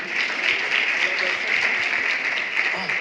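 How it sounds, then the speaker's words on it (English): An audience at a science communication finale applauds the jury members called on stage, a dense and even wash of clapping that holds steady from start to finish, with a voice faintly present beneath. "A round of applause."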